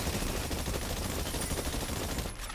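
Sustained rapid gunfire at targets in a video game, dense overlapping shots forming a continuous loud roar across the whole stretch, with no pauses.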